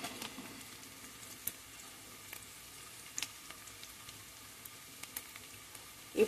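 Onions frying in a pan for cauliflower curry give a soft, steady sizzle with scattered faint crackles and pops, quiet and close, with no talking.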